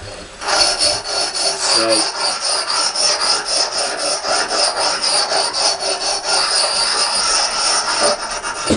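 An axe blade is worked back and forth on a whetstone, producing a steady, close rasping scrape with rhythmic strokes and no pauses.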